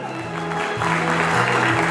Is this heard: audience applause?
yes